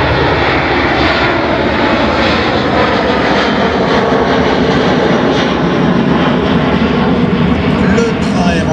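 Boeing 737-300 jet engines roar loud and steady as the airliner powers up for a go-around after a low pass at the La Ferté-Alais air show, a dense continuous drone with a voice talking over it.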